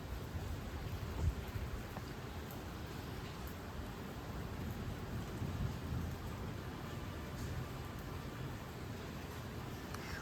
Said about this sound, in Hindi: कल से बरसात हो रही है, आज भी बरसात है, सावन की झड़ी लग गई है।